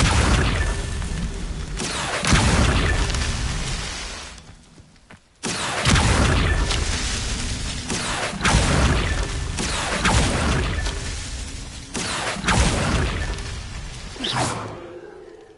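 Levioso and Accio spells cast in Hogwarts Legacy, a run of loud whooshing swells and booming bursts that rise and fall every couple of seconds, with a brief drop to near quiet midway, no voices.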